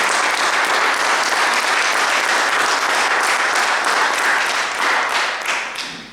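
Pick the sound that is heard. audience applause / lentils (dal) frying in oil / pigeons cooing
audience applause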